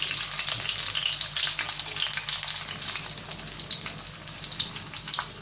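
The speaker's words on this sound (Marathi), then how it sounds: "जशा मिरच्या शेकत जातील आपल्याला हळूहळू अशा फिरवून त्यांना शेकायचं" Stuffed green chillies roast in a hot pan and are turned slowly with tongs, giving a continuous bright sizzle and crackle with faint clinks, close and steady and without voices.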